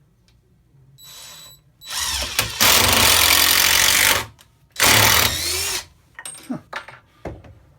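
DeWalt 20V Max impact driver drives a 2.5 inch decking screw into a pine 2x4: a brief trigger blip, then two loud, close bursts of rapid hammering whir, followed by scattered clicks and handling sounds, with one short spoken exclamation.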